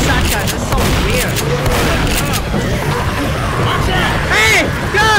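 Shotguns and other guns fire in Left 4 Dead, a dense volley of loud blasts and booms mixed with game noise and overlapping voices.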